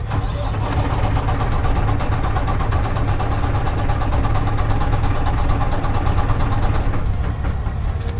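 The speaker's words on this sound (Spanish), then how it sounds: "tenemos que activar como si fuéramos a arrancar el camión" A Volvo D13 truck engine cranks continuously during a compression test, giving a steady, loud mechanical churn with an even low rumble that holds for the whole stretch without catching.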